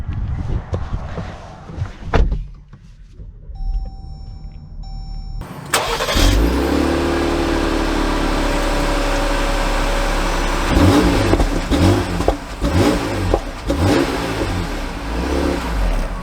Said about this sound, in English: So we are going for a short little test drive here in the WK.